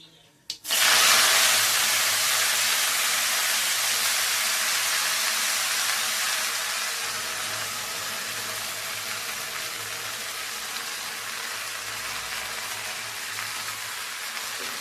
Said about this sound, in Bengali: এবারে যে পাট শাকগুলোকে আমি কেটে রেখেছিলাম সেই পাট শাকগুলোকে এর মধ্যে ছেড়ে দেবো